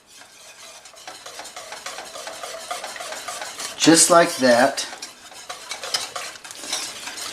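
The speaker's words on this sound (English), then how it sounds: "And I just stir this in with it turned off." Cheddar cheese is stirred into a beer cheese sauce in a pan off the heat, a close, steady scraping and swishing with a louder surge of stirring midway; a person speaks briefly.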